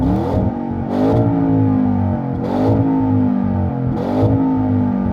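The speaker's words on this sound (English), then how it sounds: "you can override it by switching from drive into neutral, and this is what it sounds like" An Audi engine revs repeatedly against a soft limiter while in neutral, four sharp bursts bouncing off a cutoff ceiling over a steady idle, loud and close.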